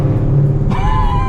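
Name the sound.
Shelby GT500 engine rumbling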